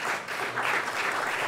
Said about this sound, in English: how about we give them a warm round of applause?